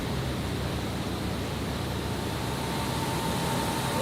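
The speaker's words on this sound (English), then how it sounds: "now we have to separate the full body rice and the broken rice with this machine." A rice mill machine separating whole grains from broken rice gives off a dense, steady rushing noise with constant rattling grain, loud and unbroken throughout.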